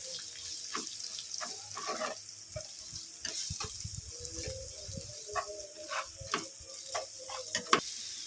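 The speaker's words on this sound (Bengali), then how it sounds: "লঙ্কা গুঁড়ো ভালো করে মশলাটাকে আবারও ভেজে নেব" Spices with chili powder frying in a pan, a quiet sizzle with irregular spoon scrapes and a few clinks, fairly faint, with no talking.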